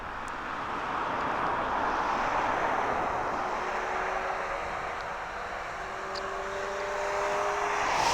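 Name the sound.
airplane at East Midlands Airport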